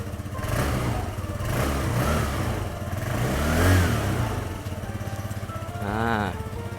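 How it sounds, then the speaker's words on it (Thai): A 2022 GPX Drone 150 4V motorcycle with its stock exhaust and low mileage runs close by, its engine chugging steadily with a few swelling revs and no one speaking. "มาฟังเสียงท่อเดิมกันเลยฮะ อ่าสตาร์ทติดทีเดียวรู้เรื่องนะครับผม"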